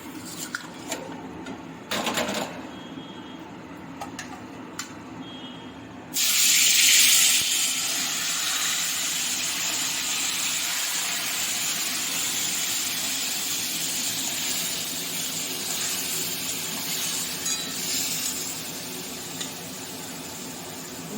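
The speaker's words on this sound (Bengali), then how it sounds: "মশলা সমেত চিকেনগুলো আমি একটু ফ্রাই করে নেব" Marinated spiced chicken frying in a pan, a steady loud hiss that begins abruptly after a few quiet clinks and knocks and then continues evenly at close range.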